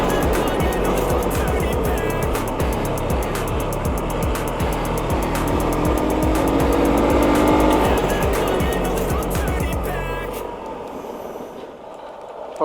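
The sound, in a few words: Hero Xpulse 200 motorcycle riding off-road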